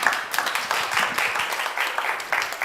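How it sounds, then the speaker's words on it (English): Audience applause at a conference session on renewable energy technologies and gender equality, a steady patter of many hands clapping at moderate distance, continuous throughout. "Well-deserved applause."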